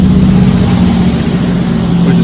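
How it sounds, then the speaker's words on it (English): Steady highway traffic roar at a bridge beside a highway fork, a loud, unbroken wash of passing vehicles close by. "so excuse the traffic noise"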